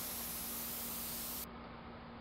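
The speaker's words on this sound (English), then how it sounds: "Every time someone sprays one of these aerosol cans," An aerosol can sprays a steady, close, broadband hiss for about a second and a half, then cuts off abruptly into quiet room tone. No voices are heard.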